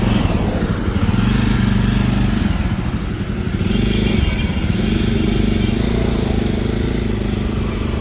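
A Jawa 42 or Yezdi Roadster motorcycle engine on a test ride, a steady, loud throbbing rumble with a slight rattly clatter that holds throughout.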